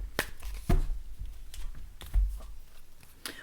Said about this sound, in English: Let's take some more cards here.